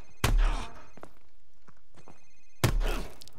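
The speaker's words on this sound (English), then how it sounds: "Sir, it's his cell phone." A cell phone rings in two short loud bursts separated by a quiet gap, with faint thumps in between, close by in a tense room.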